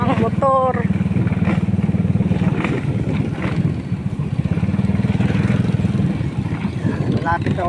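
A motorcycle on a rough, bumpy, potholed road: a loud continuous engine rumble with jolts and clatter, rising and falling slightly, close and with no talking.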